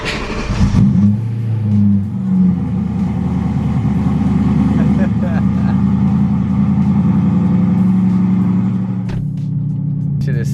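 A BMW E92 engine cranks and fires up loudly, then revs and settles into a deep, rumbling idle with a fluctuating growl, close by.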